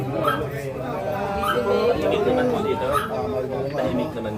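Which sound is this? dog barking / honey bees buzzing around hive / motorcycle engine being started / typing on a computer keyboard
dog barking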